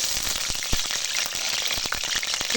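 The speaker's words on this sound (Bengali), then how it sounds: "কড়াই দিয়ে দিল তেল পরিমাণ মতো তেল হয়ে গেছে গরম তো এখন দিয়ে দিলাম আলু তারপর পেঁপে" Potatoes and papaya hit hot oil in a wok, giving a dense, continuous crackling sizzle with scattered sharp pops throughout, close and fairly loud, with no voices.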